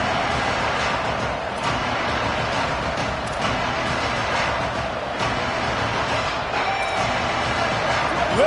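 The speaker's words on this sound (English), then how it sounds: "Listen to this crowd just shaking the girders of this place, trying to help their defense." A packed stadium crowd at a college football game roars continuously to back the defense, a loud, dense wall of cheering and noise with no break.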